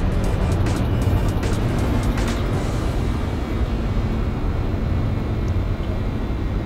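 A Honda Fit driving in Gran Turismo 4 running on a PS2 emulator, a steady, loud engine drone with tire and road hum that holds constant throughout, with no speech.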